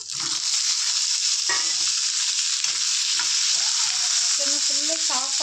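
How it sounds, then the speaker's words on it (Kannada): Cumin, coriander, tomatoes, onion and garlic roasting in a little oil in a kadai, giving a loud, continuous close sizzle with a few faint clinks and crackles throughout, no voices. "ಒಂದು ಸ್ವಲ್ಪ ಎಣ್ಣೆ ಹಾಕಿದ್ದೀನಿ ಕಡಾಯಿಗೆ ರಸಮ್ಗೆ ನಾನೆಲ್ಲ ಹುರ್ಕೋತಾ ಇದ್ದೀನಿ"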